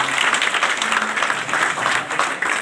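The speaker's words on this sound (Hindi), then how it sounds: "जोरदार तालियों के साथ आप सभी स्वागत करें।" Dense, loud applause fills a hall as a gathering of the Sindhi community welcomes candidate Gaurav Vallabh, steady clapping from many hands across the whole stretch.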